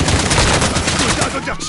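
Rapid, dense gunfire from a Call of Duty match, a loud continuous burst of automatic shots filling the whole moment with a faint voice in the background.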